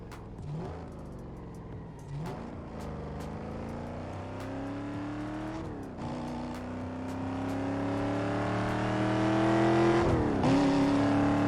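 A Mercedes-Benz E63 AMG with a 5.5-liter V8 revs hard, its loud engine note climbing through the gears with brief dips at each shift and growing steadily louder toward the end.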